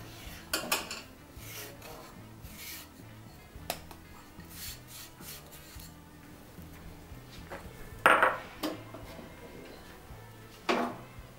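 Urad dal powder and powdered sugar are stirred together in a bowl for laddoos, giving quiet scraping and rubbing strokes with a few sharper clinks of a spoon against the bowl, faint and intermittent, with no talking.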